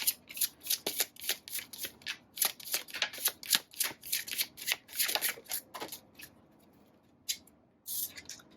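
Tarot cards are shuffled in a quick run of crisp riffling bursts, close and steady for about six seconds, then pausing before two more short shuffles.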